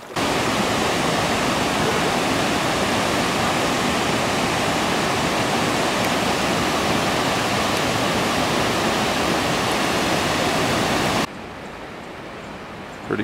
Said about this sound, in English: Just did my first little water fill up with this little stream here